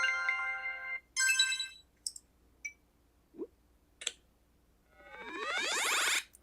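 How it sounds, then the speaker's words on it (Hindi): A series of ringtone and short effect sounds previewed in the VN Video Editor mobile app: a bright electronic ringing tone, a few short clicks and blips, then a rising swooping tone, fairly faint and with no speech. "मुझे मिसाल के तौर पर ये रिंग टोन है, ये रिंगटोन अच्छी लग रही है"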